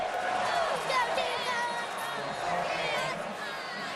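A huge stadium crowd at an LSU Tigers football game in Baton Rouge roars and cheers continuously, loud and dense throughout, with a commentator's voice over it.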